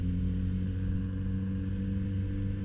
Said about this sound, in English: this engine sound, this is just a stock exhaust engine sound, and it sounds absolutely lovely